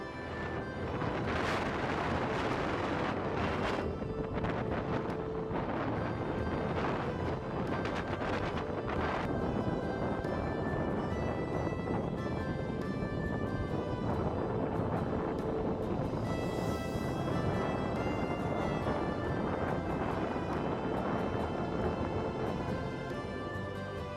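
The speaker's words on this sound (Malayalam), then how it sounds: "ആ കാറ്റ് വന്ന് അടിക്കുന്ന സൗണ്ട് ക്യാമറയിൽ റെക്കോർഡായിട്ടുണ്ട്" Strong hilltop wind at Sathram in Idukki, beside an NCC air wing runway, batters a camera microphone with a loud, unbroken roar and buffeting, with no voices.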